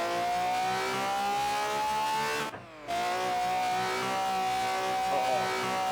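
A video-game car with a V12 engine swap revs and drones steadily, pitch climbing, with a brief gear-shift drop midway before the roar resumes.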